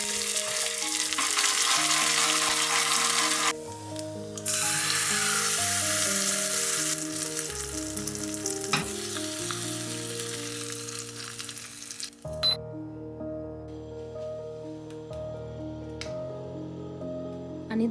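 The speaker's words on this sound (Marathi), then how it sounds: "त्यात टाकून घ्यायची थोडीशी उडद डाळ, मोहरी आणि चना डाळ टाकून याला छान फ्राय करून घ्यायचं" Urad dal, mustard seeds and chana dal frying in hot oil, a steady close sizzle and crackle that runs almost the whole time, with music playing underneath and a short quieter break near the end.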